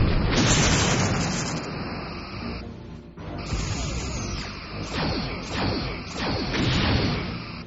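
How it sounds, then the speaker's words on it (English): Starship torpedoes fire in the Star Trek Bridge Commander space combat game as loud, dense bursts of blasting and whooshing. A brief dip in the middle is followed by several sharp repeated launches that build again toward the end. "Lining up forward torpedo tubes."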